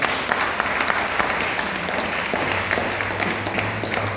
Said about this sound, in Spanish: Vamos a brindarle fuerte el aplauso al Señor.